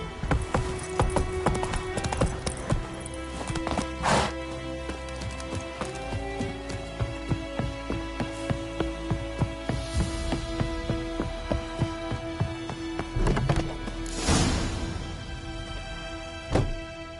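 Roach, Geralt's horse in The Witcher 3, gallops in a steady, rhythmic clip-clop of hooves, loud and near, over a humming game soundscape with occasional louder thumps.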